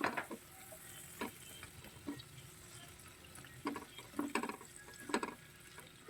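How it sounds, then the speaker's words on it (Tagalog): Shrimp being stirred with pepper in a pan: scraping and clinking strokes at irregular intervals over a soft steady sizzle, close and fairly quiet. "Lagay tayo ng paminta. Haluin natin."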